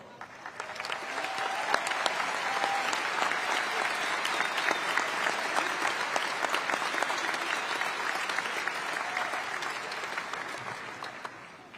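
Graduation audience applauding teachers at a Magnolia High School ceremony, a loud, dense, sustained wash of clapping that swells and holds for about eleven seconds before tapering, with no talk over it.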